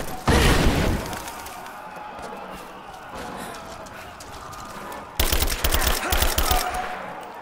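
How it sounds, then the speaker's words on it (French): A grenade blast and gunfire in Rise of the Tomb Raider arrive as a loud burst, then a lower rumble, and finally a second flurry of rapid, rattling shots. "Attention, grenade!"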